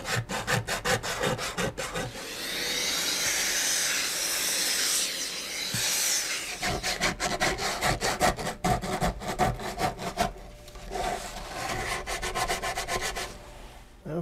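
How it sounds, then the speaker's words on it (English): Sandpaper is rubbed over the wooden top of a steel-string acoustic guitar, giving a close, continuous scratchy hiss with some rhythmic strokes. "Be sure not to sand any of these sides, so don't drag your sandpaper over."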